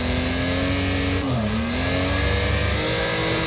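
Race cars roaring around Pinehills Raceway in the video game Wreckfest, a steady loud engine drone with a pitch that dips briefly then climbs again as the engines rev, filling the whole stretch without pause.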